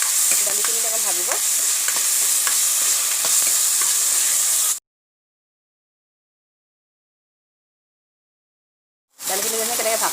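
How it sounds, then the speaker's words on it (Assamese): Lentils frying and being stirred in a pan while cooking taro and potato curry with fish head, a steady loud sizzle with scraping stirs, interrupted by a silent gap before the sizzling resumes. "দালিখিনি অকণ ভাজিব"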